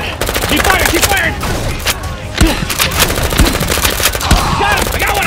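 Nerf blasters firing during a World War 2 themed Nerf battle, rapid loud bursts of snapping shots in continuous volleys, close by, with a few heavier thumps mixed in.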